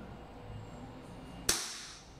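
A single sharp crack from a KJWORKS CZ Shadow 2 airsoft pistol firing once, near and crisp, followed by a brief decaying tail over faint background hum.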